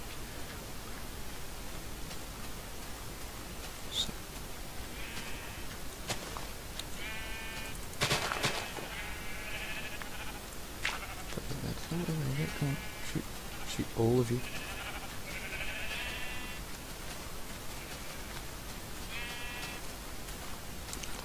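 Sheep bleating in the Minecraft video game, several short bleats scattered over steady background hiss, with a person talking throughout.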